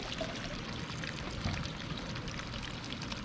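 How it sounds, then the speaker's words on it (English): Water draining through a siphon into a cup in a garden veggie bed, a steady close-up pouring and gurgling rush that continues evenly throughout. "That caught a siphon. Now that water will drain all the way down to those cuts in the bottom of the cup."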